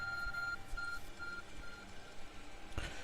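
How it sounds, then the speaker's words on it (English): The Arc Phone in the Pokemon Legends: Arceus video game gives off faint electronic beeps: a few short tones in a broken pattern over a steady low game ambience, quiet and without speech. "The ARC phone is beeping."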